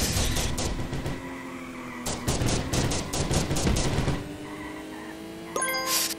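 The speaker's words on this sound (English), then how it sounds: "Oh no, machine gun once more." Rapid machine-gun fire from a kart in the game Smash Karts comes in several loud bursts mixed with bright electronic dings and pickup chimes, with no talking.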